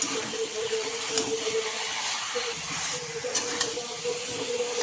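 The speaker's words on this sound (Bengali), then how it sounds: "তো এবার দিয়ে দিয়েছি মাংসগুলো এবার ভালো করে কষাবো।" Duck meat fries in oil and spices in a pot on a gas stove, a continuous close hiss and sizzle with faint scraping and clicking as it is stirred, no talking.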